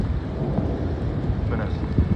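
Rumbling thunder from a winter storm on the Alexandria Corniche, a continuous low roar with wind and rain noise throughout.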